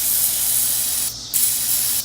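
PB Blaster penetrating oil sprayed from an aerosol can onto the lines of a Chevrolet Avalanche truck, a loud steady close hiss with a brief pause in the middle before it resumes.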